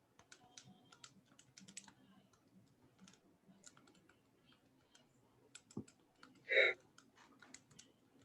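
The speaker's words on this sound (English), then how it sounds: "so I'm gonna type that again" Computer keyboard typing in a lecture room, a scattered run of light, quick key clicks at low level, with one louder brighter burst near the end.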